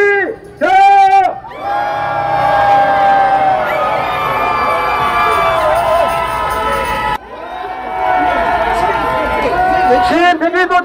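Protest crowd at a street rally roaring and shouting in unison, loud sustained cheering with whoops, briefly dropping before swelling again, with a voice calling out at the start.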